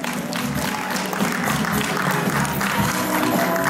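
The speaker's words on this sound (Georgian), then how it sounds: "აპლოდისმენტები არ დავიშუროთ" An audience applauds at a children's concert, a dense, steady wash of clapping that stays loud and even for the whole stretch with no voices on top.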